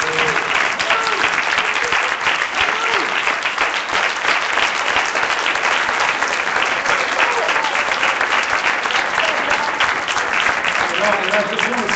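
Sustained, dense clapping from a conference audience at a National Bar Association gathering, loud and steady for the whole stretch, with scattered shouts and voices mixed into the crowd.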